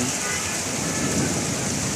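Heavy rain pours steadily with a dense, roaring wash and gusting wind, a Kalbaishakhi thunderstorm downpour with lightning, filling the whole time with no pauses.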